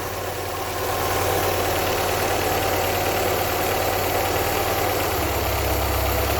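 A restored car engine idles steadily and close by while its idle speed is adjusted, the rumble loud and continuous before the pitch of the idle shifts lower near the end.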